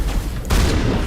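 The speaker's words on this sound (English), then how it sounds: "I'm gonna give the shotgun a try" Shotgun fire in the video game Mass Effect Legendary: a loud, booming game blast lands midway through the moment, sharp and close against a dense background of combat noise.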